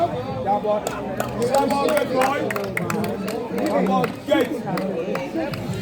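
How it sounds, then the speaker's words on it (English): A crowd at a tennis match argues over a close line call, a dense babble of many overlapping voices rising and falling, with occasional sharp claps and knocks poking through. "Some of the crowd are arguing that the ball is good"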